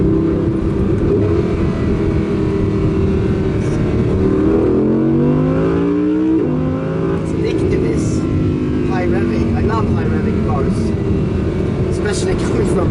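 An Audi R8 Coupé V10 engine revs and drones loudly and steadily, pitch climbing and falling through the gears, with people talking over it.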